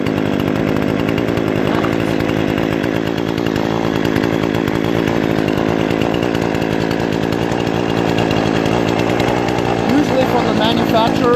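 A Remington Outlaw RM4620 20-inch gas chainsaw runs steadily and loudly at close range, a continuous buzzing engine drone with slight fluctuations throughout.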